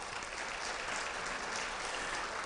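Steady applause from an audience at an Alpha Phi Alpha fraternity regional public program, a dense even wash of clapping that holds at full strength throughout without fading.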